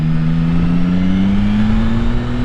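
A Yamaha Tracer 9 GT+ motorcycle engine pulls away from traffic lights, a loud, close, smooth rising drone as the revs climb steadily.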